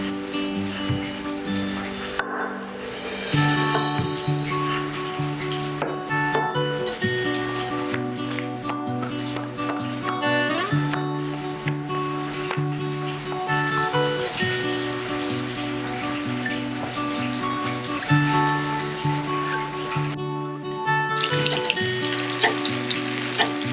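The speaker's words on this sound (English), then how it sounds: "this could be done while the fish is frying." Steady, loud sizzling and spitting of fish frying in a hot pan, continuous throughout with a humming tone underneath and no talking.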